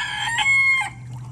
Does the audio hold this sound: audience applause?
no